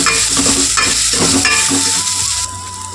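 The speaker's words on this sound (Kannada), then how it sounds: "ಇದು ಹಸಿ ವಾಸನೆ ಹೋಗೋರಿಗೆ ಚೆನ್ನಾಗಿ ಫ್ರೈ ಮಾಡ್ಕೋಬೇಕು" Masala spiced with salt, chilli powder and turmeric fries loudly in a pan, a dense close sizzle with stirring scrapes throughout that eases slightly in the last half second.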